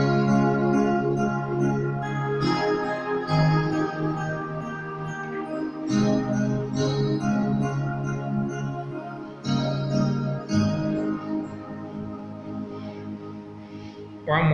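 Piano chords struck with both hands together, each a rich sustained block of tones with new chords entering every couple of seconds; played alone at moderate volume with no talking.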